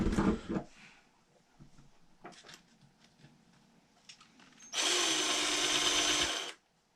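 A power drill whirs loudly and steadily for under two seconds after some quieter clattering and handling noises, then cuts off abruptly, during an Axial Ridgecrest RC truck transmission repair.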